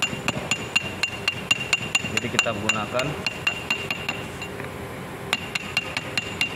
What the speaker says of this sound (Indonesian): ketok perlahan bagian dari puli kompresor